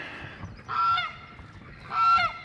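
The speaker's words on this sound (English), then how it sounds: "Let's go ahead and let these ducks out and get some duck eggs." Ducks being let out of their coop on a farm in the morning give two loud, honking calls, each about half a second long, with quiet outdoor background between them.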